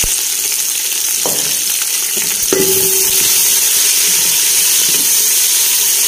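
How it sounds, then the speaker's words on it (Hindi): Onion, garlic paste, tomatoes and chillies sizzle loudly in a hot pan, a steady close frying hiss with occasional stirring scrapes and clatters. "प्याज फ्राई कर लिया, तो हम पा लवे लसन का पेस्ट और नाल टमाटर मिर्च"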